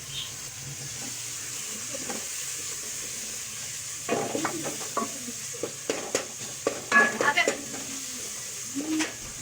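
Ginger, garlic and crushed green chilies frying in a pan for dal, a steady low sizzle with scraping stirs and clattering utensil knocks growing busier midway, close by, no speech.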